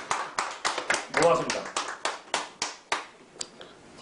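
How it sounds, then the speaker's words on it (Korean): A small group at a training session on solvent handling and filters claps in a slow, regular rhythm, about a dozen distinct close claps spaced roughly a third of a second apart, with a brief spoken thanks partway through. "박수 한번 쳐줍시다."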